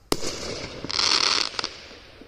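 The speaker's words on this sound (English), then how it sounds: "Unexpected firework." A sharp firework bang, then a burst of crackling and hissing explosions, followed by a few scattered pops fading out.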